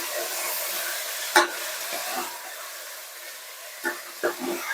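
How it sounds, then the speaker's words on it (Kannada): Chicken pieces being stirred in a hot pan for chicken sambar give a soft sizzle under a continuous hiss, with a few scraping stirs and louder clatters from the spoon against the pan. "ಈಗ ಚೆನ್ನಾಗಿ ತಿರುಗಿಸ್ಬೇಕು"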